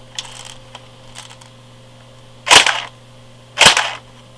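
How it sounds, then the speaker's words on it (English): Black Ops Cottonmouth AKS-74U airsoft gun fires two sharp, close single shots about a second apart, preceded by faint mechanical clicks. "So let me just demo the sound for you real quick here."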